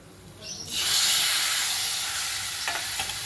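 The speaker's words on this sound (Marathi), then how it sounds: "आता हे टोमॅटो टाकूया आपण" Tomatoes dropped into a little hot oil for Satara-style black ghevda dal amti burst into a loud, steady sizzle that holds at close range, with faint stirring scrapes near the end and no talking.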